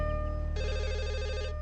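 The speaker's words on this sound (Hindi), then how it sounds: "ख्यालों के भंवर को चीरती हुई फोन की घंटी बजी" A telephone bell begins ringing partway through, a steady electronic warbling trill that repeats over a low background hum, with no voices.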